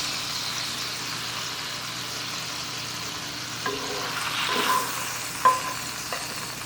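Schnitzel pre-searing in a hot pan, a low steady sizzle with occasional scrapes and stirring clatter near the end, no talking.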